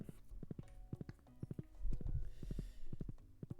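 Rhythmic hoofbeats of a horse in Stardew Valley clip-clop at a steady trot, sharp and close, with a soft low rumble midway through.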